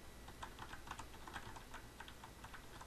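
Typing on a Cherry MX Brown mechanical computer keyboard, a quick irregular run of soft close key clicks, light and quiet, with no talking.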